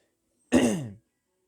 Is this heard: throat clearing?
yes